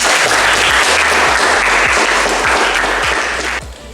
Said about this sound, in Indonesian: Oke, kita kasih aplaus untuk semuanya.